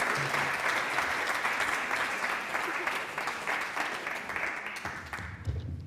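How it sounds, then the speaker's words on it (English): An audience at a Speak Up 2023 evening event applauds, with sustained, dense clapping at fairly close range that gradually thins toward the end, with faint voices mixed in. "So how about a big round of applause for my wife, Alicia Dix."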